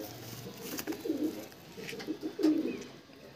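A young pigeon in a loft coos softly, two low rounded coos around the middle and end of the short stretch, faint and close against a quiet background hiss.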